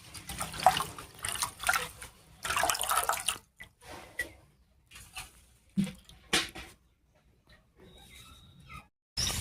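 Water running and splashing as freshly picked neem leaves are rinsed clean at home, with irregular trickles and bursts that are louder early on, then sparser, quieter splashes with gaps between them.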